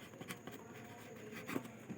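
A pen writes on paper while labelling a diagram of light refracting through a glass slab, soft quick scratching strokes close by and faint, with no talking.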